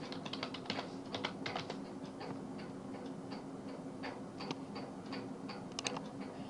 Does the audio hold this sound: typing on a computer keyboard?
yes